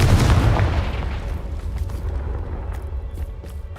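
A Confringo fire spell blast in Hogwarts Legacy, a loud booming burst at the start that rolls into a rumbling, crackling decay over a few seconds.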